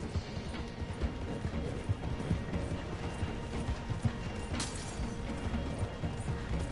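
Horse hooves clip-clop steadily in Red Dead Redemption 2, a rapid, loud rhythmic galloping patter mixed with rattling tack and game noise, with no speech over it.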